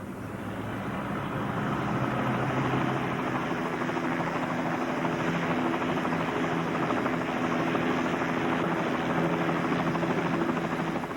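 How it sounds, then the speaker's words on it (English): A helicopter drones steadily overhead at the 1992 Glastonbury festival site, its broad rotor rumble holding loud and even throughout with no voices. "There's a helicopter going over."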